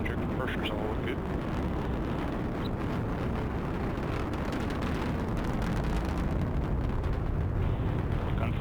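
An Atlas V rocket with its RD-180 engine roars during launch, a dense, heavy, continuous rumble with crackling texture, loud and sustained throughout, with a voice speaking over it.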